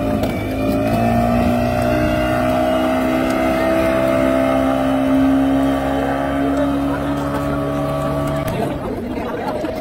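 A speedboat engine on a lake at a resort park drones steadily with a strong, slightly rising hum, then drops away abruptly near the end.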